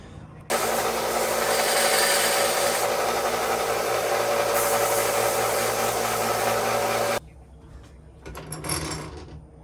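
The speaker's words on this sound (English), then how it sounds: "So I'm gonna sand these ends flat and punch it out." A power sander grinding the ends of a broken vintage knife flat, a loud continuous whirring abrasive roar that cuts off abruptly, then a short quieter rasp.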